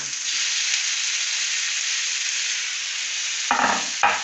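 Tuna and tomato sauté together in a hot pan with a steady, close sizzle and hiss that holds evenly throughout, broken near the end by two brief bursts of louder crackling as the food is stirred.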